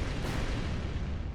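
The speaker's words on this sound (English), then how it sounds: "A series of explosions destroyed the entrance where we escaped." Explosions in the Purgatory 2 video game, a dense, loud rumbling blast that fills the whole short stretch with a heavy, sustained roar.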